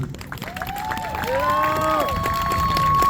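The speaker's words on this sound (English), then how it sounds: "Give that a round of applause." Crowd at a campus protest encampment cheering and applauding during a Gaza vigil, a loud sustained mass of voices with rising whoops and shouts over clapping.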